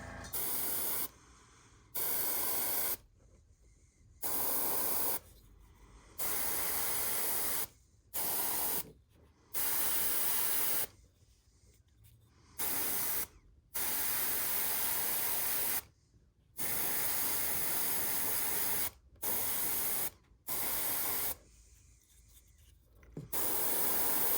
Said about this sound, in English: it's fine to just go over again with a few more passes of the airbrush